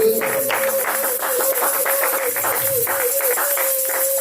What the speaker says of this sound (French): Nous allons glorifier notre Dieu par des acclamations.